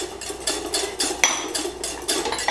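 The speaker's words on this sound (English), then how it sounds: "We're just gonna whisk it and add a little pinch of salt." A whisk beats half a stick of melted butter into gluten-free hollandaise sauce in a bowl, rapid rhythmic metallic clinks and swishes, close and fairly loud.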